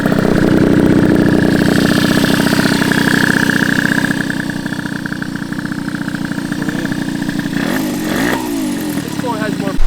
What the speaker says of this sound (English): It doesn't have as much like instant power like the Veloci does, but it revs up higher and higher than the higher top end.